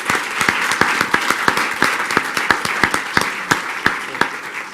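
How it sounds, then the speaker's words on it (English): A small audience at a public school board meeting applauds, scattered hands forming a moderate bed of clapping with distinct, loud individual claps popping out close by at an irregular rhythm. "Ladies and gentlemen, with your applause,"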